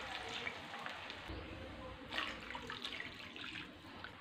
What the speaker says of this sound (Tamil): 1 கப் ரவைக்கு 2 டம்ளர் தண்ணி சேர்த்துடலாம்.